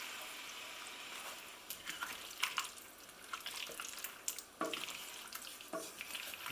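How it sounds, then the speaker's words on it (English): Water swirled in an emptied tomato tin is poured into a stew pot of vegetables, giving a soft gurgling splash with scattered clinks and drips, fairly quiet and alone. "We're going to rinse the tin out with about half filled with water."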